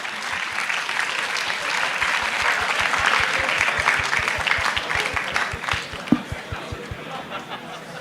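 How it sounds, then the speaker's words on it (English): Audience at a closing ceremony applauding, a dense sustained wash of clapping with a regular beat of rhythmic claps underneath and crowd chatter mixed in. "let's give a big round of applause to Tunku Abdul Rahman University of Management and Technology, TAR UMT."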